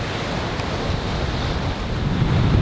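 Ocean waves crash and wash continuously against black lava rock along the Road to Hana in Hawaii, a loud, broadband surf roar mixed with wind buffeting the microphone.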